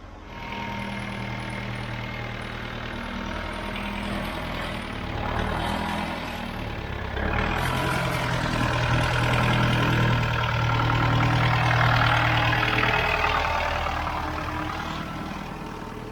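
A heavy tractor engine runs steadily at a low, rumbling idle, holding a constant drone from start to finish with a slight swell in loudness partway through.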